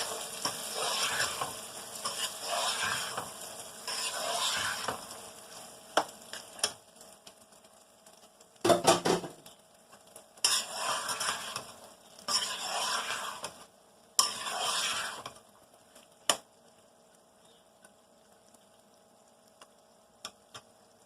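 Boiled chickpeas go into a spice paste frying in a pan and are stirred, producing bursts of sizzling and spoon scraping separated by quieter pauses, close and with no talk, over a low hum.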